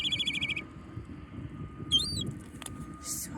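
A baby bird that looks like a seagull chick gives a few short, faint high calls in brief separate bursts over a low background hum.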